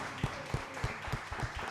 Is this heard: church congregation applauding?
yes